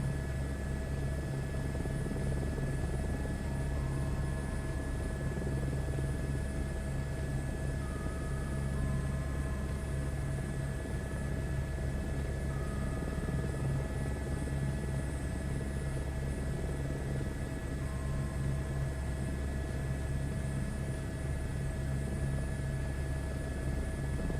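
A helicopter holding a hover over a runway in Microsoft Flight Simulator 2024, a steady droning rotor and engine hum with a constant high whine, unchanging throughout.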